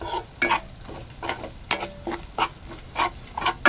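A spoon scrapes and stirs tomato vada filling in a hot pan, producing repeated sharp scraping strokes about every half second against a soft sizzle, close and fairly loud.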